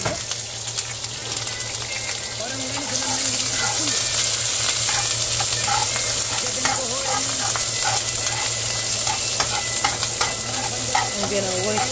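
Onion frying in olive oil in a pan, a steady, fairly loud sizzle with faint stirring scrapes throughout, no talk.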